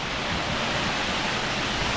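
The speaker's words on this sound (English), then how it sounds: "As the water flows from under that water feature and along over here" Water spills steadily from a water feature at the Old Mill in North Little Rock, Arkansas, a loud, continuous broadband rush up close with no pauses and no voices.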